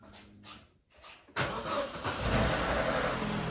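An Opel Corsa D from 2011 cranks and fires up, its engine catching abruptly after a short quiet stretch and settling into a steady, loud idle close by.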